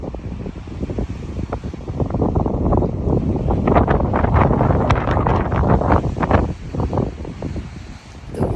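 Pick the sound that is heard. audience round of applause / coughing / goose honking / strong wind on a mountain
strong wind on a mountain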